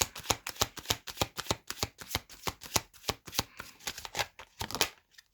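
Tarot cards shuffled in a fast, steady riffle of crisp papery slaps, close and fairly loud, running continuously with no talk.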